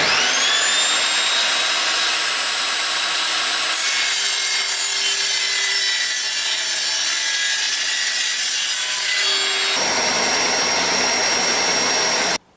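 An Evolution Rage 5-S saw cutting through aluminium gives a loud, steady high-pitched whine and screech with a rasping cut. The tone shifts partway through, and the saw cuts off abruptly at the end.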